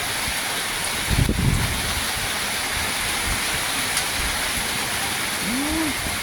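Sudden heavy rain and strong wind batter an outdoor meatball stall: a steady broadband wash of downpour and gusts, with a brief louder rattle early on.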